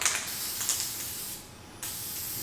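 Steady hissing spray from an aerosol can, close and continuous, with a short pause before resuming.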